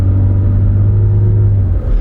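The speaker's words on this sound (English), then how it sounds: "this thing doesn't really make much more noise even though it's in 4-wheel high" A four-wheel-drive vehicle cruising in four-wheel high gives off a steady, close, low engine rumble and road drone with no voices, dipping slightly near the end.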